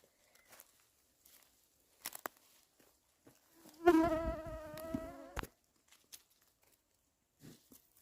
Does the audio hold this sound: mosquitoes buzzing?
yes